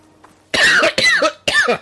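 Three sharp, harsh coughs in quick succession, close and loud, after a brief quiet moment, during play of the video game Horizon Forbidden West.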